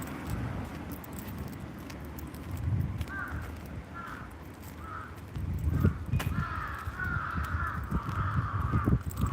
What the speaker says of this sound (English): Man, the crows are loud.